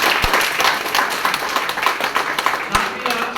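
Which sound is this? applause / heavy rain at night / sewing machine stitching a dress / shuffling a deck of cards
applause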